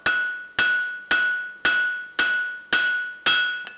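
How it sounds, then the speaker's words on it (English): Seven evenly spaced, ringing strikes of a blacksmith's forging hammer on hot metal being drawn out with the hammer's toe used as a fuller, each blow a loud, close metallic clang decaying before the next, with no talking. "the other method that I can use for drawing material out is to actually dig in the toe of my hammer and use that as a fuller as well"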